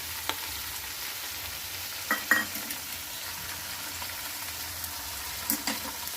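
Peas and mixed vegetables fry in oil for undhiyu, giving a quiet, steady sizzle with a few soft scraping stirs and clinks of a utensil against the pan.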